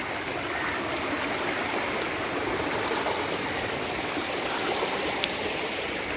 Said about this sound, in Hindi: और ये पानी गुजर के जा रहा है जी